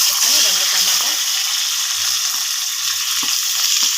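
Tomato pieces sizzling loudly in hot oil for a sesame tomato chutney, a steady, dense hiss close up throughout with brief stirring noises, briefly under a voice.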